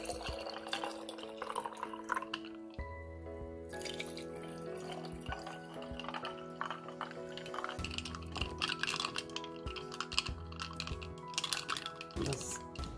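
Cold tea is poured and stirred into a drink for homemade Bengali-style boba, with liquid trickling and clinking in a glass amid scattered clicks and taps, a close busy kitchen sound with no talk.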